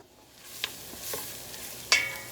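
Onions caramelizing in a pan give a soft, low sizzle punctuated by a few sharp clicks and stirring taps, fairly quiet and close, with no talking.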